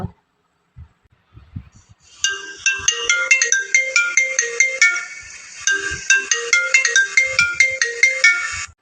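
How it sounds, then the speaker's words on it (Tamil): A phone ringtone plays a repeating electronic melody, loud and close, after a few soft knocks and rustles. "யார் ஃபோன் பண்ணுறாங்க"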